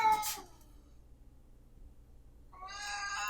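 A house cat gives two meows: a short, bright cry, then a pause of about two seconds, then a longer, louder drawn-out meow close by, with no one talking.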